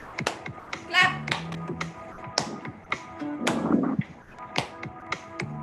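Hands clap in time with an exercise-dance routine, sharp taps spaced through the bar while a voice calls out steps and affirmations over the beat.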